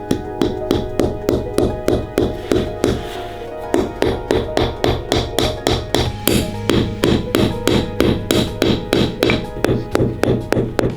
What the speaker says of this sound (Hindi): यहाँ के लोग जरूरत पड़ने पर जमे हुए फलों को हथौड़े की तरह भी इस्तेमाल कर सकते हैं।